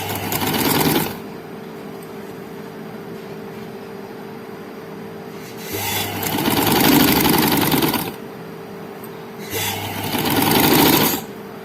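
A sewing machine stitches a body frock in three loud bursts of running stitches, separated by quieter pauses where a low motor hum lingers; no voices.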